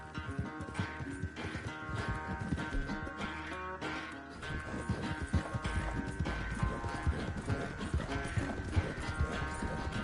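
Horse hooves clatter in a fast, steady galloping rhythm in Red Dead Redemption 2, close and continuous, with faint music or ambience beneath.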